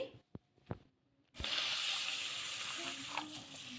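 A couple of soft taps and clinks, then a sudden sustained watery swish and rush as ration rice is washed in a bowl of water, continuing steadily to the end.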